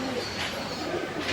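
A pigeon coos softly nearby, a brief low call over faint background noise.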